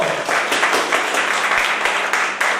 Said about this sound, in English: Can we clap like Indians?